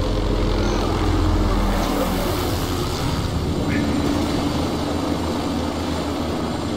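A continuous, loud engine drone with heavy low rumble and rotor-like whir, steady throughout, from a helicopter in the video game Spec Ops: The Line.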